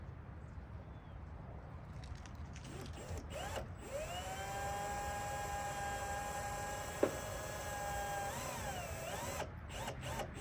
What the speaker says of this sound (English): This I-beam here is 1/4 inch I-beam. You know, it's not super thick, but I am having to drill pilot holes.